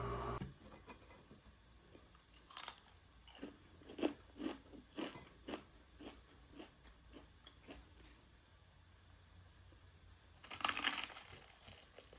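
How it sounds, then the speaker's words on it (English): Buttered toast and bacon are chewed close up in a quiet room, with a series of crisp, irregular crunching bites and a louder burst of crunching near the end. "So I'm gonna have a piece of buttered toast and 2 pieces of bacon, as well as my coffee."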